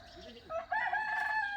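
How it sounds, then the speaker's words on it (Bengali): A rooster crows once in a long drawn-out call, moderately distant, over a steady outdoor hum, at dawn beside foggy rice paddies in a Sundarbans village. "মোরগ ডাকছে"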